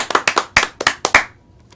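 Seven crisp hand claps from a sound effect triggered on a live stream, in an uneven quick burst, then silence; no voices.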